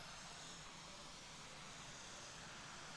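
A large 2.8-meter radio-controlled model Lancer jet slows to a high angle of attack while circling over the runway at an air show, its turbine producing a steady, distant broadband roar that holds without pause.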